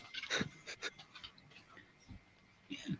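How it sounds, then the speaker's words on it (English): A dog panting in a home lounge, quick soft breaths close by, faint and uneven over a quiet room. "my doggy's come into the lounge"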